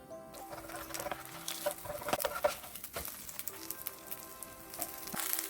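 Kimchi pancake loaded with kimchi, shrimp and seasoned batter frying in plenty of oil, a steady crackling sizzle with scattered pops, close and fairly quiet, no voices.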